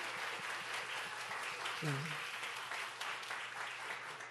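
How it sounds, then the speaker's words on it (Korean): A church audience at a summer Bible school applauds, a dense, steady wash of clapping through the whole stretch, with a voice briefly heard over it. "함께 박수해 줄까요?"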